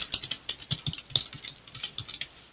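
Rapid, close keystrokes on a computer keyboard clatter in an irregular burst of light clicks, heard alone without speech.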